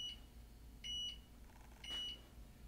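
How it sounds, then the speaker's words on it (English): Stahls Hotronics heat press sounds its countdown alert, three short high electronic beeps spaced about a second apart over a low steady hum, fairly faint and with no talk. "And it'll count down, it'll do beep, beep."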